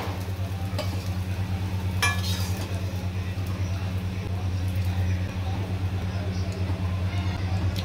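Soybean chunks fry in a pan for a vegetable curry, giving a steady sizzle and low hum. A spoon scrapes and clinks against the pan now and then while a person talks over it.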